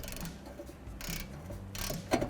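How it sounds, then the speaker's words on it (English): A big 1/2 inch breaker bar ratchet works inverted number 18 Torx bolts loose near a suspension bolt, giving faint clicking ratchet and mechanical clatter with a few brief metallic bursts. "I'm going to use a big 1/2 inch breaker bar, ratchet"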